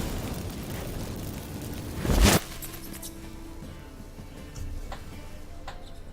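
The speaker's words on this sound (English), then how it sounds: "Get ready for some magic fireworks." Magic fireworks burst from activated incense in The Witcher 3, a single loud crackling pop about two seconds in, followed by faint ticking and sparkling over low ambience.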